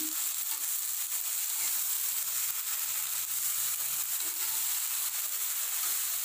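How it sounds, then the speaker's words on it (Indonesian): Pumpkin shoots and spices stir-fried in a pan give a steady, loud sizzle throughout, with soft scraping stirs now and then and no voices. "sekarang kita aduk kayak gini supaya bumbu yang di bawah nggak gosong"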